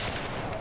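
Gunfire in the video game Battlefield 4 plays as a short, dense burst of rapid shots, loud and continuous for under a second.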